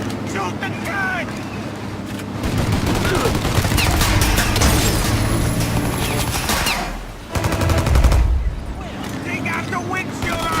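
Heavy automatic gunfire in the Mafia Definitive Edition video game, a dense, loud, continuous fusillade of rapid shots under urgent shouting voices.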